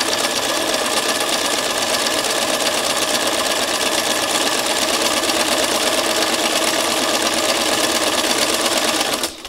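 A sewing machine stitches a small fabric flower in one steady, loud, fast mechanical whir that runs unbroken until it stops abruptly at the end.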